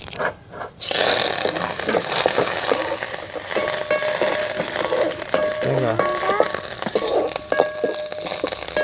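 Curry leaves fry in hot oil while preparing ragi mani kozhukattai, giving a steady crackling sizzle with occasional utensil clinks and faint background music.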